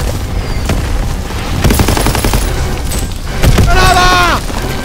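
Battlefield gunfire and blasts in Call of Duty WW2, steady rapid shooting with a heavier boom midway, loud and close, while soldiers shout over the din.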